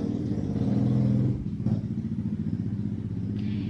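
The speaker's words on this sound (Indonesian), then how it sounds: "Maaf suara motor." Motorcycle passing close by, a loud steady engine drone that peaks early and then fades to a rougher lower rumble.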